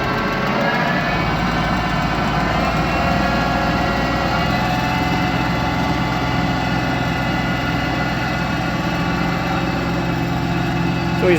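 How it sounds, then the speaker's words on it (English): A 40 horsepower LS tractor engine runs steadily with a constant droning hum and mechanical whir of a Ferri mower, loud and unbroken throughout. "we're running a 40 horsepower LS tractor"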